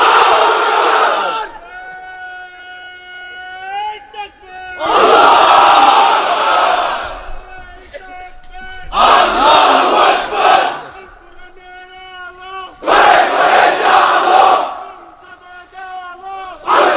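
A large crowd of unmarried men roars the takbir chant in three loud unison bursts, each answering a single voice that calls the phrase in the gaps between them.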